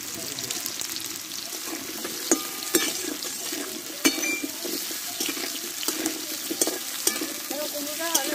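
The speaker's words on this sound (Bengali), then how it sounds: "কুমড়োটা ভালোভাবে কষে নিব আমি।" Pumpkin pieces stir-fried in a pan, a steady dense sizzle of oil broken by repeated scrapes and clacks of a spatula stirring, close and continuous throughout.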